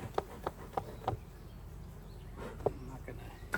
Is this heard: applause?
no